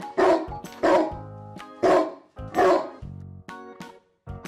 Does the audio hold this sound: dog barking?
yes